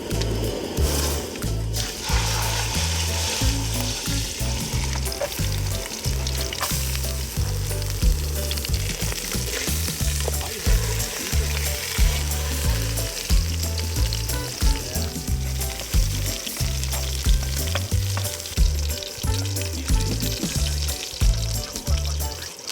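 Wagyu beef frying in oil in a pot at an outdoor ice-fishing camp, giving a loud continuous sizzle with crackling spatter and periodic low thumps throughout.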